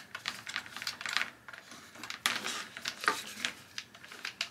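Crisp plastic clicking and scraping as a plastic hose fitting is twisted onto a 1600 psi electric pressure washer, a close run of small ratcheting ticks rising and falling in quick bursts.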